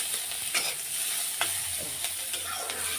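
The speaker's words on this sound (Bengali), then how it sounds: "পেঁয়াজগুলো একটু ভাজা ভাজা করে নেব" Onions frying in a pan with very little oil, a steady close sizzle broken by a few sharp stirring scrapes, with no voices.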